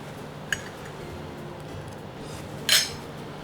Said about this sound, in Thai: เรามากินตับทอดกระเทียมพร้อมข้าวกันเลยนะครับ